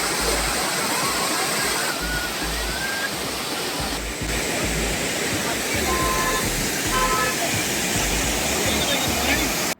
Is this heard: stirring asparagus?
no